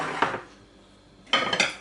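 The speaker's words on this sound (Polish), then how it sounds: "I wykładamy ziemniaki do naczynia." Potatoes set down into a butter-greased ovenproof baking dish, giving two short bursts of clattering dish contact separated by a quiet gap.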